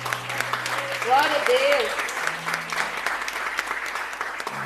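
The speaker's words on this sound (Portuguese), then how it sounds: "Você pode aplaudir o Senhor?" Church congregation applauding during a worship service, a broad wash of clapping that fills the clip, with a person speaking over it.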